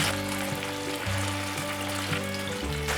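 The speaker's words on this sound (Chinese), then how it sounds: "让它慢慢炸吧。" Vegan eel pieces fry gently in hot oil, a dense continuous crackling sizzle, close and steady, over a low stepped tonal background with no voices.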